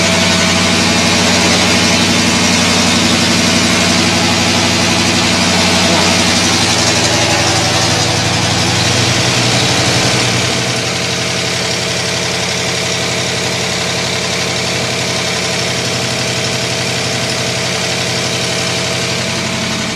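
A Ford 5.0 roller cam engine idles steadily right after startup, a loud, close, continuous rumble with a slight settling drop in level around midway, no talking over it.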